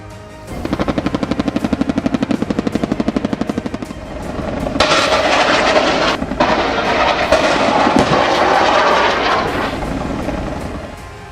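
A Z-10ME attack helicopter flies past with loud, rapid rotor chopping that gives way to a heavy continuous roar, close and dominant, with a brief dropout near the middle.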